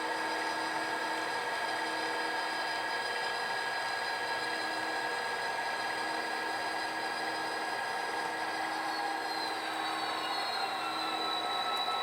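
GP39/GP40 locomotive pulling a gondola and a boxcar during switching, heard as a continuous steady drone with high wheel squeal and ringing tones, moderately loud and without voices.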